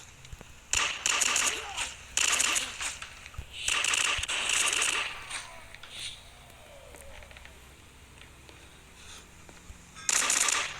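Dual MP5 submachine guns firing in the video game Sierra 7, short sharp bursts of rapid shots in several clusters, with someone talking in between.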